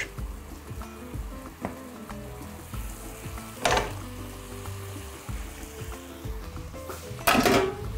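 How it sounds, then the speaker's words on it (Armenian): Lamb sizzles in a hot pan with scraping and clinking of utensils, and two louder bursts of spitting hiss partway through. "մսակտորները գցում ենք տապակի մեջ"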